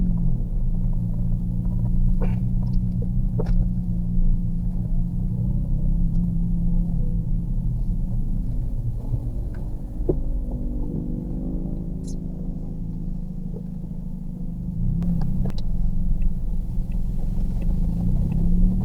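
A car engine being downshifted through the gears gives a steady low rumble for nearly twenty seconds, with the revs briefly climbing and settling midway. The idle is close and even, and no one talks.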